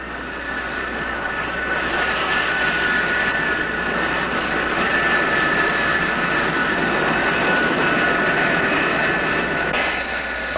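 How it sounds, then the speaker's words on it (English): American F-105 and Phantom jet fighter-bombers taking off from a base in Thailand in 1967, a loud, continuous jet engine roar that swells and holds steady throughout, with no voices. "These planes, American F-105s and Phantoms, take off from these bases daily to bomb targets in North Vietnam."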